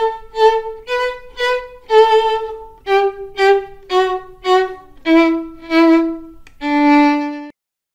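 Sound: violin playing

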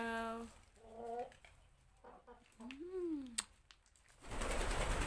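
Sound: backyard chickens

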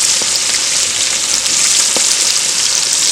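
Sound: pork rinds (chicharrón) frying

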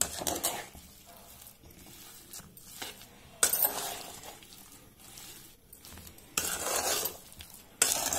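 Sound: stirring coconut jaggery syrup with moong dal in pan

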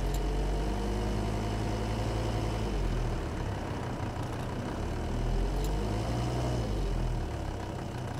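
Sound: car engine revving during turbo control valve test

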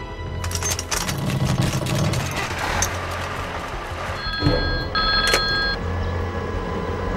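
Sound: telephone ringing

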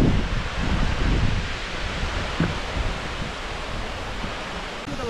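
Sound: Yongyeon waterfall at Juwangsan with low water

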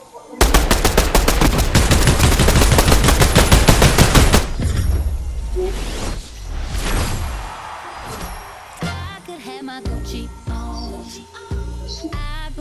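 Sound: gunfire in the video game Fortnite

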